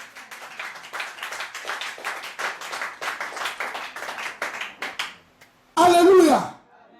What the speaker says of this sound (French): Tu es d'accord, acclame très fort le Seigneur.